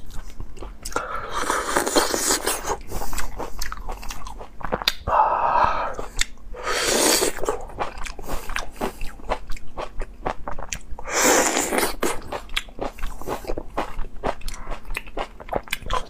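Soft dates being bitten and chewed close up, with wet, squishy mouth sounds and a few louder crunchy bites coming in bursts around two, seven and twelve seconds, with no talking.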